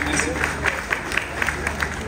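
Audience at an association event clapping in appreciation, a brief burst of rhythmic claps from a small group, heard under faint crowd murmur.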